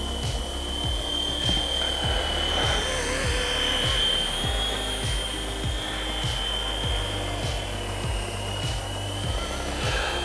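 A small beginner RC helicopter flies around a little tree outdoors, its high motor whine and rapid rotor chop holding steady and close throughout.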